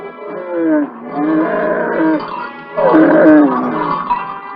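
A camel gives deep, drawn-out groaning bellows, two long calls separated by a short pause, close and loud.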